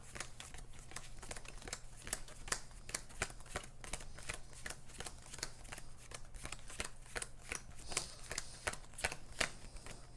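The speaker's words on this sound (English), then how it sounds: "And I'll shuffle my deck" A deck of cards for the Marvel Champions card game is shuffled, giving a quiet, steady stream of rapid riffling clicks and flutters over about ten seconds, close up with no talking.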